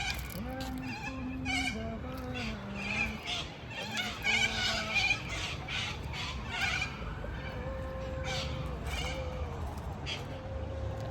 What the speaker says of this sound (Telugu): Bird sounds.